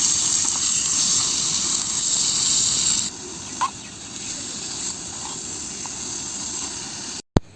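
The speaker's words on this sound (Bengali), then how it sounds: "শুকনো মরিচটা ভাজা হয়ে গেলে তারপর দিয়ে নিলাম পেঁয়াজ আর রসুন।" Onion and garlic sizzle in hot oil with dried chili in a miniature kitchen, a steady bright hiss that drops to a softer fry partway through.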